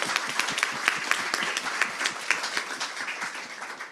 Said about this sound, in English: So I think we should have a round of applause for that.